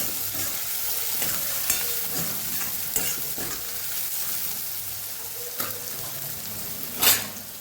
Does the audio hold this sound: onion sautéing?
yes